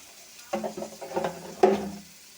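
Potato and egg curry masala sautéed in a pan with cumin powder, giving a soft sizzle broken by a few scraping stirs that peak sharply near the end.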